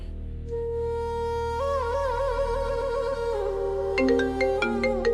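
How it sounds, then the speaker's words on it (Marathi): A phone ringtone plays for an incoming call, a clear electronic melody of sustained tones that shifts pitch, then breaks into quick plucked notes near the end, loud and alone with no talk. "फोन आला."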